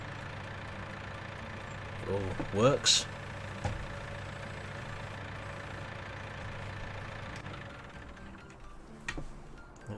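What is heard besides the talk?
small 4-cylinder tractor engine idling in Farming Simulator 19 video game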